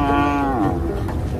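A single cow moos in a long, drawn-out, loud call close by, among a Wodaabe herding group, the tone bending downward as it fades.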